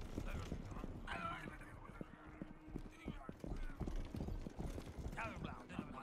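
Horse hooves clip-clop in the western video game Rustler, a steady rhythmic trot with occasional whinnies, heard under continuous talk in Polish.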